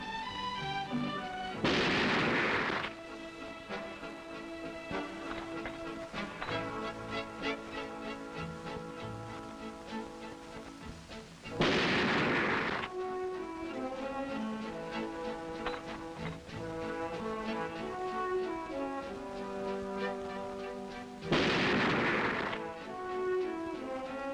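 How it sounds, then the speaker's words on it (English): Three loud rifle shots, roughly ten seconds apart, from a Remington Model 700 bolt-action rifle fired at 100 yards on a range, each a sharp blast with a short decay over steady background music. "Each shooter will fire 3 shots at 100 yards, and Mike starts it off with a bolt-action Model 700"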